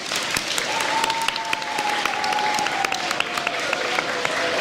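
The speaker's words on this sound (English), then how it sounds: "let's give them all a big round of applause" An audience at a school event applauds supporters of the school and its students, steady dense clapping for several seconds with a few sharper individual claps and a faint tone running through it.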